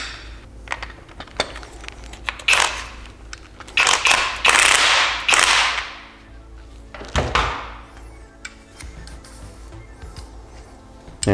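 Metal clunks and ratcheting knocks from tightening a pillow ball mount on an S14 240SX, a few loud bursts with short pauses between them and quieter taps around them.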